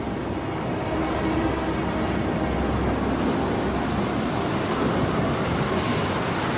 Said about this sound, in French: Tu peux faire cesser le vent.